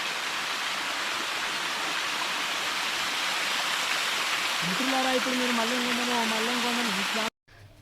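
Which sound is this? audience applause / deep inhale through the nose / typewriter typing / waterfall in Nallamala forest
waterfall in Nallamala forest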